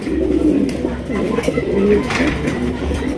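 A pair of Jacobin pigeons coo in low, throaty murmurs that overlap steadily throughout, close by and fairly loud.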